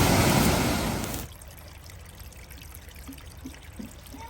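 Mirror Lake Waterfall at Blanchard Springs pours loudly up close for about a second, then drops to a quieter trickling water sound with faint drips.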